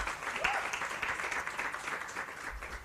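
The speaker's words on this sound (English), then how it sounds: "A round of applause, please, as she takes a seat." Applause from a seated audience at a women's economy workshop and expo, a dense, steady patter of many hands clapping throughout, moderately loud and a little distant in the hall.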